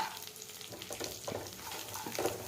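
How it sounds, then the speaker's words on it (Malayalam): Mustard seeds, chana dal, curry leaves and peanuts frying in oil give a continuous, fairly quiet sizzle dotted with small pops and crackles, along with occasional stirring. "കടുകും ഒരു അഞ്ച് ഗ്രാം കടലപ്പരിപ്പും ഒരു രണ്ട് കറിവേപ്പിലയും ഗ്രാം നിലക്കടലയും ചേർത്ത് നമുക്കൊന്ന് ഫ്രൈ ആക്കി എടുക്കാം"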